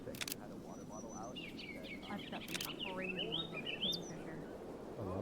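Birds chirp and tweet in the video game Flock Around, with scattered short calls and trills over a soft background hum at modest volume.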